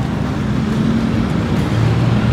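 Road traffic near the old city wall at Chiang Mai Gate, Thailand, a steady close engine drone with a low hum that shifts slightly as vehicles pass.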